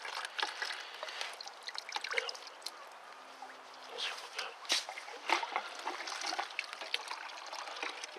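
Water rushes and gurgles steadily through the heater hoses of a Ford Expedition 4.6 during a heater core flush, with trickling splashes and bubbling throughout, close by.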